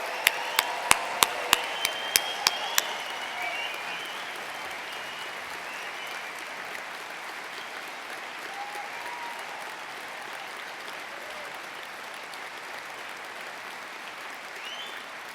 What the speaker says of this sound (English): please join us in giving all recipients of awards and prizes a final round of applause.